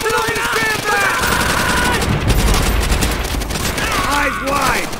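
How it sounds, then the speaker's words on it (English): Call of Duty: World at War sniper gunfire crackles within a busy battle, with dense overlapping shots heard under urgent shouted voices. "Sniper fire!"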